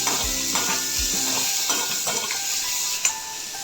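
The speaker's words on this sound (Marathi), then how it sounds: "आता त्याच्यामध्ये हा बारीक चिरलेला अर्धा टोमॅटो ॲड करते मी" Finely chopped tomato goes into a pan of onions fried until reddish, landing with soft thuds before a steady hiss and crackle of frying, with light scraping from a spoon against the pan.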